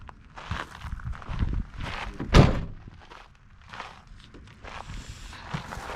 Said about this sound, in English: I'm gonna have to shut these doors.